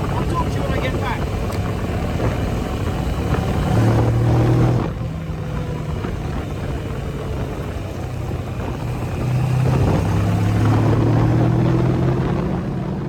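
A Kawasaki Versys 650 fitted with a booster plug is ridden on the road, a steady engine drone mixed with wind rush, swelling louder twice as the bike accelerates.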